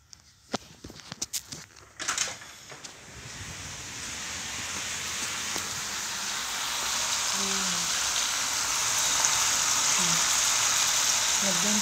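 Carnero (mutton) meat boiling in a pot gives a steady, dense bubbling hiss that builds and holds for several seconds after a few sharp knocks at the start.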